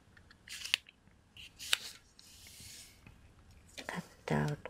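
Scissors cut a sheet of origami paper in half, making several crisp, close snips and a longer rustling slice, with soft voice sounds and paper handling in a quiet room.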